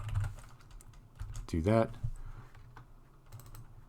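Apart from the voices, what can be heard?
typing on a computer keyboard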